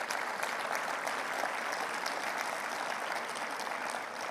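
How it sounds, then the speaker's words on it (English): An audience at a COP28 energy and just-transition panel session applauds, steady dense clapping that carries through the whole moment without letting up. "I think this deserves a round of applause in itself."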